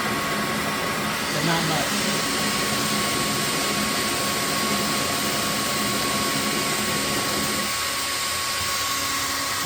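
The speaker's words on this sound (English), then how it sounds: "I use a hair dryer" A hair dryer blows steadily on the base of a thrown clay pot, a loud continuous broadband whoosh with a faint hum that runs throughout, while a person briefly speaks over it.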